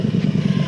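A vehicle with a 670cc engine accelerates in a brief, loud burst of throbbing, pulsing engine roar.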